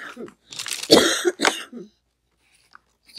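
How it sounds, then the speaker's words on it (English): A woman recovering from bronchitis and pneumonia coughs several times in quick succession, close and moderately loud, with throat-clearing sounds, then near silence with a few faint clicks. "Sorry, I'm still coughing"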